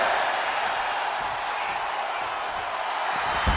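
Arena crowd noise from the WWE 2K25 wrestling video game, a steady, dense roar of cheering that holds throughout without any talk, while a wrestler takes in the energy from the crowd.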